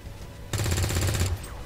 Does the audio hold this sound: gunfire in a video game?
yes